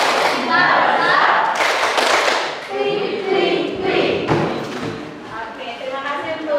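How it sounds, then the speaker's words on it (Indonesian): A group of Indonesian schoolchildren and a teacher perform the 'tepuk cinta' rhythmic clapping chant, sharp bursts of claps and slaps in patterned sequences mixed with chanting voices, loud and close. "Tepuk cinta untuk diri kita."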